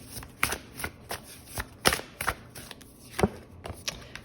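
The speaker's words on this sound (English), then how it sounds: "Let's pull some cards for your person." Tarot cards being shuffled by hand at close range, a run of soft irregular riffling snaps and taps with no talk.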